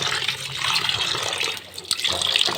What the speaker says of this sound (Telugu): ఇలా బౌల్లో వాటర్తో ఇలా వేసుకొని మనం నీట్గా కడిగేసుకోవాలి